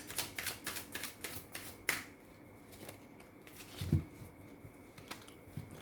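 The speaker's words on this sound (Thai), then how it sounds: "สับไพ่สด" Tarot cards shuffled by hand during a live reading, giving a run of quick papery riffles and snaps, with a louder burst near the two-second mark and a low knock later on. No one speaks.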